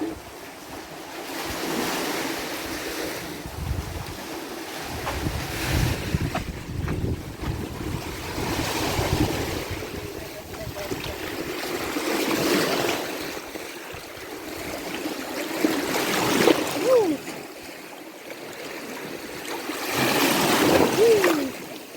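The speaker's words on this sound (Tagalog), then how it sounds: "Lakas ng umbak." Strong ocean waves surge and break at a beach, repeated roaring swells rising and falling every few seconds with heavy wind buffeting the microphone and faint voices now and then.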